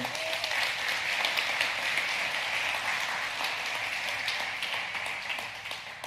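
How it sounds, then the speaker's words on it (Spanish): A church congregation applauds steadily for several seconds, a full dense wash of clapping that holds level and then begins to fade near the end. "yo creo que Dios se merece un aplauso después de eso"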